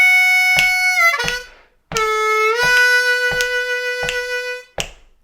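A blues harmonica plays a lick with a 2 draw whole step bend that slides down and releases back up to the clean note, in separate sharp, close phrases with brief gaps.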